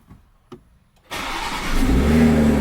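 A Porsche 911 GT3 RS Weissach engine fires up after a couple of faint clicks, catching loudly and close, then revs up into a rising, sustained roar.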